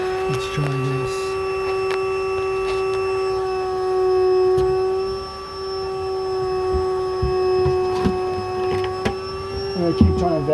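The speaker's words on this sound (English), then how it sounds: "I keep trying to vacuum them as much as I can." A vacuum cleaner sucking up yellow jackets from a planter box nest gives a steady electric whine with a strong constant hum throughout, loud and close, with a few small knocks and shifts in pitch.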